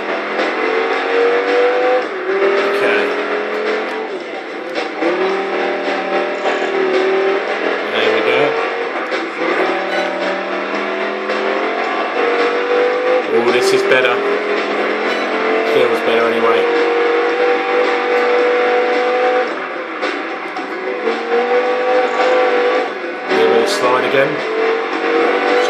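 A Dodge Viper's racing engine in Project Gotham Racing 4, lapping a London street circuit, roars continuously and loudly, its pitch rising and dipping with throttle and gear changes and brief dips around corners.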